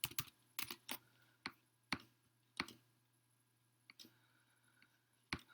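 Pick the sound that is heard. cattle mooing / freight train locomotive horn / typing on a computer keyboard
typing on a computer keyboard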